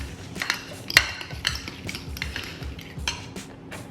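Turkey bacon salad being mixed in a bowl with utensils: repeated close scraping and clinking of cutlery against the dish, with one sharper clink near the start, steady and moderately quiet.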